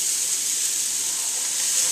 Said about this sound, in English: I'm just going to place them face down right here in the pre-warmed skillet